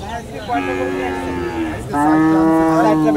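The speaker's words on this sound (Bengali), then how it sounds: "এটা কিন্তু ফিজিয়ান জাতের গরু ভিউয়ার্স।" Friesian cows low at a busy cattle market, two long, loud moos close by, one after the other, over a background of crowd murmur.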